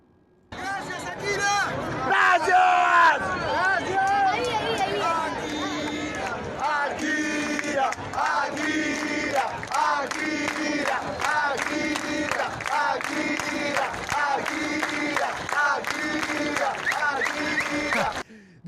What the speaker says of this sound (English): They're cheering Akira Toriyama.